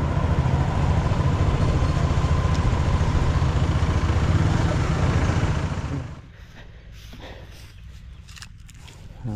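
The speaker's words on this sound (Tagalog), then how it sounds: "Nakakaandar na yung mga makina natin." A small Robin engine idles on a farm with a steady, loud, close rumble that drops in level partway through, leaving a quieter running hum.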